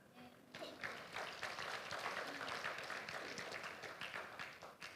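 A church congregation applauds after a healing testimony, a steady wash of many hands clapping at moderate distance for several seconds, fairly quiet overall.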